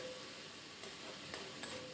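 Soya chunks and fried eggplant being stirred in a hot pan, a steady low sizzle with a few soft spatula scrapes over two seconds, close and quiet.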